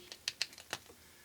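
A 16-gauge wire being cut and stripped with a wire stripper, heard as a few quick, quiet snips and clicks close up, with silence after them.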